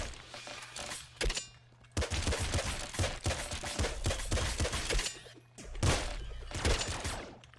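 Dense, rolling blasts from the ultra command launcher weapon in Nuclear Throne, fired repeatedly in heavy clustered bursts with short pauses, loud and crowded with overlapping impacts.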